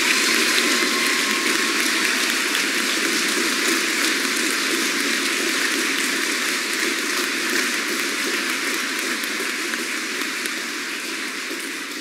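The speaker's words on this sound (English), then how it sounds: "Please give these exceptional soldiers a round of applause." Sustained audience applause at an Army graduation for the 434th FA Brigade at Fort Sill, Oklahoma, a dense, steady wash of clapping from a large crowd in a big hall that slowly tapers.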